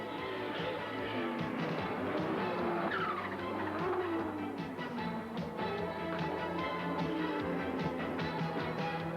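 An Audi Quattro race car in a 1988 Trans Am road race, heard at a distance as a steady engine drone with shifting pitch and tire noise, fairly faint and continuous, with no voices.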